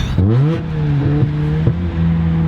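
A Mazda RX7 13B two-rotor rotary engine revs hard and close, its buzzy note climbing and settling in quick blips with a brief dip mid-way, loud and steady throughout.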